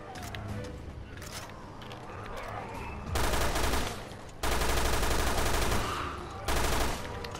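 Heavy recoiling gunfire in the Resident Evil Revelations 2 Raid Mode, with three loud sustained bursts of shots that stop and start over quieter game sounds, while a player talks between them.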